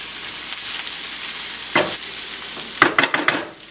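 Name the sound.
stirring onions frying in a pan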